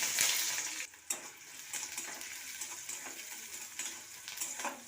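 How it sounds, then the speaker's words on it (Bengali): Chopped onions with green chilies and five-spice seeds frying in hot mustard oil, a continuous bright sizzle with scraping stirring strokes breaking through a few times, close and fairly loud. "পেঁয়াজটাকে একটু নেড়ে নেবো।"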